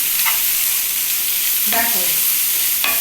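Butter noodles are stirred and fried in ghee in a hot pan, giving a loud, steady sizzle with a few scraping stirs and a brief spoken word.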